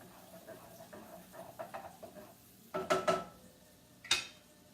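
Onions being stirred in a cooking pot, soft scraping clinks of a utensil against the pot, quiet at first and then a few sharper knocks, one clear clank near the end.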